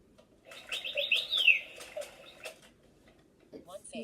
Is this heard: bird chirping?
yes